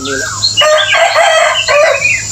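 A rooster crows loudly and close by in a rubber plantation, one long drawn-out call rising and falling, with faint chirps before it.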